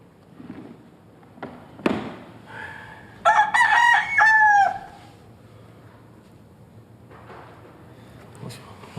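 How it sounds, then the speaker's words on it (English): Two roosters brought for a film audition: one loud, clear crow rises and holds in the middle, with people talking quietly and some clatter before and after. "2 roosters right here."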